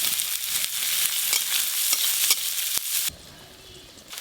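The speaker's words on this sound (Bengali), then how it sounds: "পেঁয়াজ রসুনও ভাজা ভাজা হয়ে গেল" Chopped onion and whole garlic cloves fry in hot oil, making a loud, dense, close sizzle with stirring scrapes that suddenly drops to a much quieter hiss near the end.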